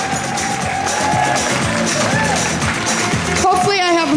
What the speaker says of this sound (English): big round of applause for all the new riders